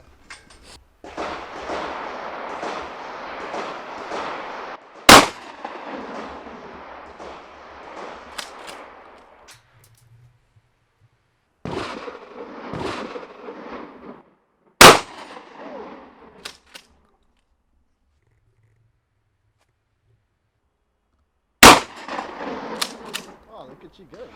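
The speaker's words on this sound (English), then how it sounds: "the last gun we shot turned out to be my favorite gun for the day, and that's the shotgun" Pump-action shotgun fired outdoors at a shooting range in Cape Town, three sharp, loud single blasts spaced several seconds apart, with people talking between shots.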